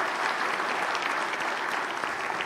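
Conference attendees at a diabetes technology session applaud Dr. Clements, a brief, even burst of many hands clapping at moderate distance, sustained throughout.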